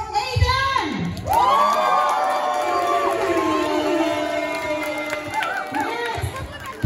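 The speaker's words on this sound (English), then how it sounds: "Let's give a round of applause for Aiden!" A crowd of children cheers and shouts loudly for several seconds at an 80th birthday celebration, with whoops and excited voices over a rumble of noise.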